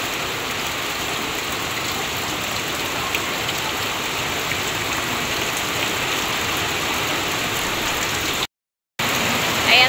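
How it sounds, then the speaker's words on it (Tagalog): Heavy rain pouring in front of a house, a dense, steady hiss of downpour with no letup, interrupted only by a brief moment of silence near the end. "Sobra pong lakas ng ulan."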